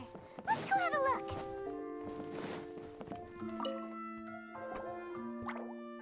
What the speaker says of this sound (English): Oh, sounds like a water droplet is on the second floor.